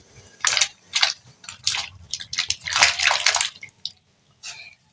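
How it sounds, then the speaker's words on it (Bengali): Potato slices are dropped into hot salted water in a wok, making a series of irregular bursts of splashing and sloshing, close and fairly loud, with short quiet gaps between. "জল গরম করে নিয়েছি দিয়ে দেব অল্প পরিমাণে নুন আর দিয়ে দেব এর ওপরে এই আলুগুলো"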